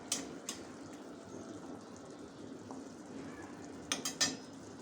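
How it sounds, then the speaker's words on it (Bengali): Masala spice paste for a loitta fish curry stirred in a pan over low heat, a quiet steady sizzle with a few sharp clinks of a utensil against the pot, no talking. "তো এটাকে আমি ভালো করে চুলার আঁচ অল্পতে রেখেই এই তরকারিটার মশলাগুলোকে আমি ভালো করে কষিয়ে নেব।"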